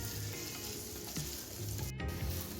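Potatoes frying in a pan over low gas for ghee aloo morich, a brief, steady, fairly soft sizzle with light stirring and no speech.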